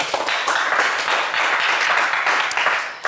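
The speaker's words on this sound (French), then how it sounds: "on vous applaudit bien fort" Game show studio audience applauding a contestant, steady close clapping that fills the whole stretch at moderate loudness, with no voices over it.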